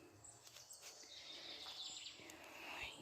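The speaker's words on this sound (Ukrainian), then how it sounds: "Пташки співають." Small birds chirp and sing in a forest during a rainy-day mushroom-picking walk, faint high calls scattered over a soft steady outdoor hiss.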